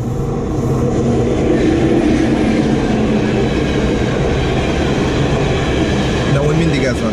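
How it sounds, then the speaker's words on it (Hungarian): A train passes close by with a loud, continuous rumble and rolling rail noise that stays steady throughout, with faint clacking toward the end. "A vonat."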